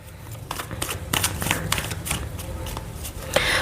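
A deck of tarot cards is shuffled and cards are drawn by hand, a dense run of close, papery flicks and slaps that continues without pause, with no talking.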